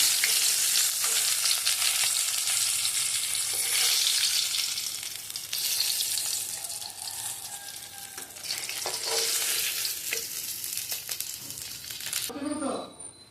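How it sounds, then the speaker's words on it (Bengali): Fish coated in a thin gram-flour and egg batter sizzling as it deep-fries in a pan, a loud, steady crackling hiss that stays continuous throughout, with occasional scraping stirs. "বাকি মাছগুলো এরকম করে ভেজে নেবো"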